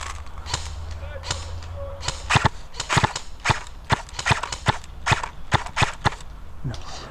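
Single shots from a Nuprol Nomad airsoft rifle during an outdoor zombie skirmish in a village, a string of sharp snappy cracks at irregular intervals, fairly close, over faint background voices and rustling.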